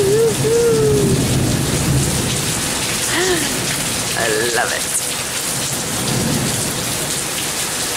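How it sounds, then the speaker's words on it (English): Steady warm-weather rain with low thunder rumbling through it, a thunderstorm with lightning building outdoors. Someone speaks briefly over the downpour, which stays loud and continuous. "real rootin' tootin' little rainfall here."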